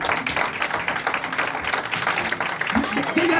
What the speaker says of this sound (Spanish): Si usted lo ha entendido, denle un aplauso al Señor.